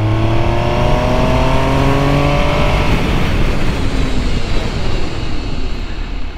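MV Agusta Superveloce 800 motorcycle engine at speed, loud and close, revving up through several gears in rising harmonic sweeps before settling into a steady roar with wind noise; no talk.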